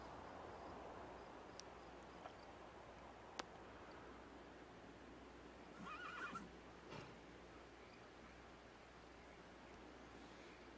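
Horses neighing in The Sims 3, a short whinny burst at mid-distance over a steady hiss of game ambience, with no talk.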